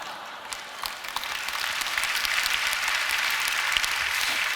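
Audience clapping at a Korean church prayer gathering, a dense, even patter of many hands that starts softly and builds to a steady, moderately distant wash.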